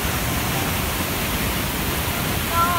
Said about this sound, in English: literally the first ever waterfall I ever see in real life